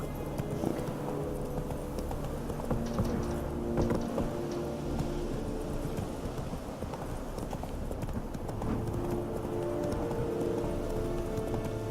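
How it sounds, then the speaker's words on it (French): Horse hooves clip-clop steadily in The Witcher 3 video game while riding down a mountain, at a brisk, rhythmic pace, close and continuous, with faint background tones underneath. "Je descends de la montagne à cheval."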